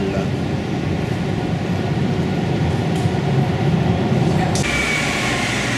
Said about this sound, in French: La ligne de métro de Gênes est l'une des plus courtes du monde.